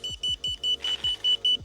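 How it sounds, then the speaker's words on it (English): Circooter Landturbo electric scooter lock alarm: a rapid series of about ten sharp, shrill electronic beeps in quick even rhythm, close and piercing, with no talk. "when you do lock the scooter, you'll get this very annoying beep"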